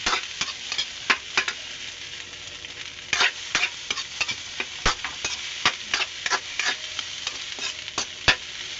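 Fried rice is stirred in a sizzling pan, a spatula scraping and clacking against the metal in irregular close strikes over a soft, constant frying hiss, with no speech.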